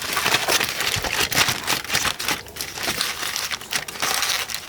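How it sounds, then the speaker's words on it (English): Aluminium foil is crinkled and folded around cooked meat, a close, continuous rustling and crackling with sharper crunches throughout and no talking. "I'm going to wrap these in foil and let these rest"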